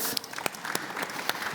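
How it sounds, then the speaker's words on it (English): Applause from an audience, a brief burst of overlapping claps with a few sharper, louder hand claps standing out. "This deserves the applause, right?"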